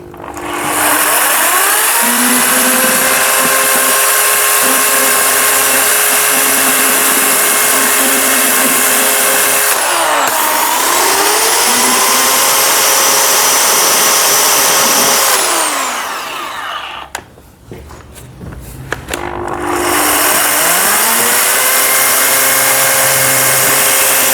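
A loud electric chainsaw runs close by, its motor revving up and down in waves, briefly easing off before roaring again.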